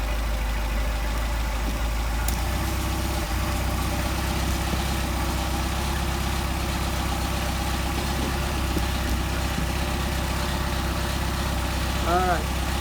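A Mercedes 190SL engine fitted with Solex carburetors settles into a steady, even idle, a continuous low mechanical hum running throughout with no voices heard.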